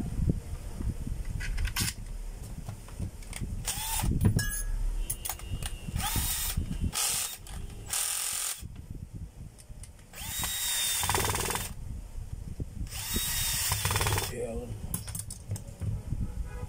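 Power drill driving two screws into a field coil during a replacement repair. Short bursts of whirring drill alternate with clinks and handling noises of metal parts, and someone talks at times.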